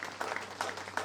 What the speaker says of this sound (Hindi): आप लोग ताली बजा करके धन्यवाद देंगे